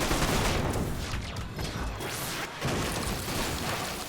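Rapid gunfire from a weapon in the shooter game Warframe, dense continuous bursts of shots with crashing impacts and brief whooshes, loud and close, with no talking over it.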